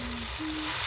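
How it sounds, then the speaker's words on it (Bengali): Tomato and onion sizzle in a pan over a broken clay stove propped up with bricks at a rooftop family picnic, giving a steady, even frying hiss with no break throughout the short stretch. "এখন টমেটো আর পেঁয়াজ ভাজা হচ্ছে,"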